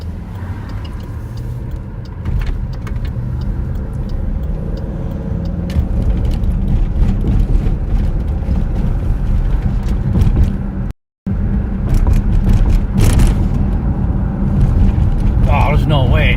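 Car driving along a road on a patrol route, steady loud engine and road rumble throughout with brief sharper knocks, a momentary dropout near the middle, and people talking over it.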